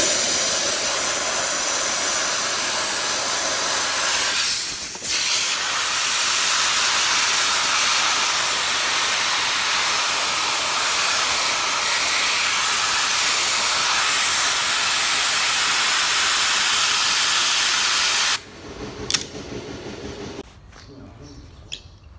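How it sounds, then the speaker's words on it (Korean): A compressed-air gun blows dust out of the air filter from a Chevrolet Trax Crossover during DIY servicing, a loud continuous hissing blast that runs steadily for about eighteen seconds before cutting off, followed by a few quieter handling noises. "에어필터 에어건으로 저기 먼지 좀 털어줄게요."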